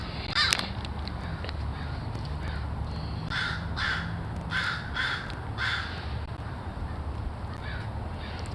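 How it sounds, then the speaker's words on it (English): Several crows caw back and forth outdoors in a steady run of harsh calls, some in quick pairs, over a constant low background rumble. "Straight up like a conversation going on between these crows"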